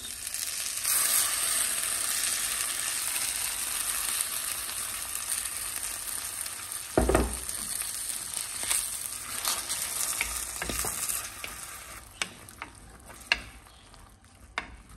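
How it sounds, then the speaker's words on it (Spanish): A blended sauce sizzles and fries in a hot pan, a steady crackle broken by scraping and knocking as a spoon stirs it, with a louder clatter around the middle. "voy a empezar a moverlo un poquito para que se empiece a freír. Le voy a agregar lo que licuamos"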